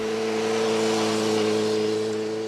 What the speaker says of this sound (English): No, it sounds all rippy and snorty, and when you're slowing down, downshifting, you get little pops and crisp response from the throttle.